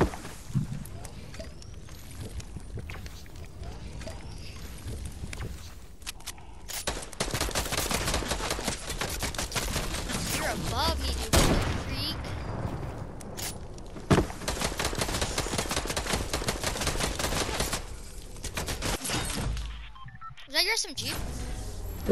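SMG gunfire in a video game crackles in rapid bursts, with dense stretches of fast automatic fire broken by short pauses, under frequent chatter from players.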